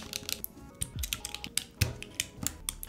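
Someone types on a Mode Envoy keyboard with HMX Xinhai switches and PBT keycaps, producing close, crisp, irregular clacks with a few deeper thocks from the space bar, and no talking.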